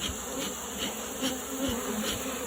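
Honey bees at an opened flea-market hive, a steady, dense buzzing swarm heard close up, faint and continuous with no voices.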